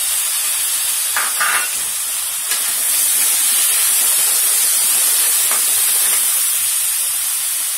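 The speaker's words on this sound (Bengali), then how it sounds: "আমি এখন টমেটো একটা দিয়ে দিচ্ছি।" Tomato added to onions that are nearly done frying in a pan with bay leaf, cinnamon and cardamom for a chicken dopiaza, giving a steady loud hiss and sizzle with a few brief stirring clicks and no talk.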